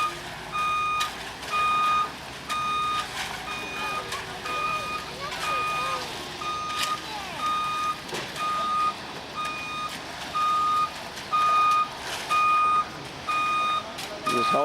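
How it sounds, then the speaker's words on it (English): A truck backs up at a house-building site, its backup alarm sounding evenly spaced, shrill, repeating beeps over a low engine rumble, with faint voices in the background. "We just hollered him to shift his truck over so he could back up another truck."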